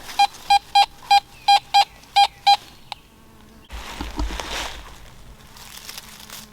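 A rapid series of eight sharp, high metal detector beeps chirps in quick rhythm over a trashy area, followed by scraping, crunching ground noise.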